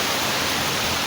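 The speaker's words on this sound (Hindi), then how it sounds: "पर आज अभी बारिश फुल तेज़ है" Heavy monsoon rain pours down in Lahore as a dense, steady hiss with no breaks, loud and close, and no voices over it.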